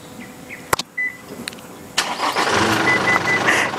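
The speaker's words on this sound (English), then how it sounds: "The key fob itself with the remote start is pretty amazing." A 2021 Isuzu D-Max X-Terrain pickup truck starts by remote: a few clicks and beeps, then the diesel engine cranks at about two seconds and settles into a loud, steady close idle.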